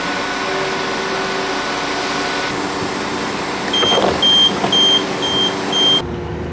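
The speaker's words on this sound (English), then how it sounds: "So our train is just pulling in from the depot here." A Class 172 Turbostar diesel train pulling in from the depot, a steady rumbling hum with a sustained drone, then a series of regular electronic beeps over the engine noise before it cuts off.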